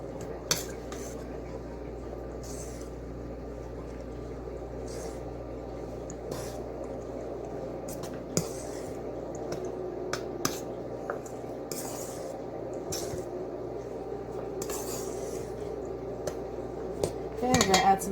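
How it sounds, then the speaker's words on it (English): Margarine and other ingredients are stirred together in a bowl, soft scraping and occasional clinks of utensil on dish over a steady low kitchen hum, fairly faint and close. "we're going to mix all that up together"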